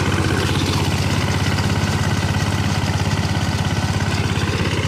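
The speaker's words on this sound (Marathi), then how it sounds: "बिना ड्रायव्हरचा ट्रॅक्टर चालला आहे." An Apollo tractor engine runs steadily at close range with no one driving it, a loud, even diesel throb with a fast regular pulse and no talk.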